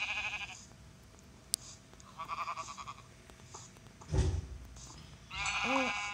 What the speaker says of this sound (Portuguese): Oh, uma ovelha.